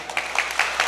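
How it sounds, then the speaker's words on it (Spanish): Applause from the congregation at a Catholic sermon in Q'anjob'al, a brief dense burst of clapping in rhythmic waves, close and fairly loud. "Fuerte aplausos"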